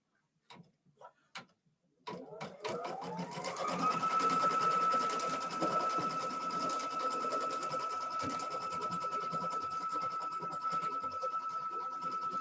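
A Baby Lock sewing machine stitches a placement line on a quilt block; after a few faint clicks it starts up and runs in a steady, fast mechanical whir with a sustained tone, moderately quiet and close.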